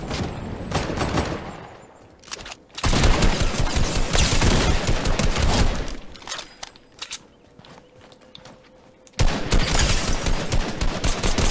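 Rifle gunfire in a shooter video game, arriving as dense bursts of rapid shots in two loud stretches separated by a quieter gap, with faint movement noise between bursts.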